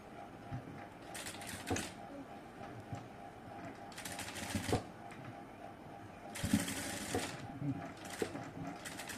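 A sewing machine stitching a kurti runs in several short bursts between pauses, fairly faint with a steady mechanical whir under quiet room noise.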